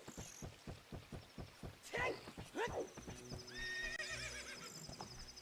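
Epona, the horse in the video game Ocarina of Time, neighing twice over a steady clip-clop of hooves, with game music chiming in afterward; a voice speaks briefly.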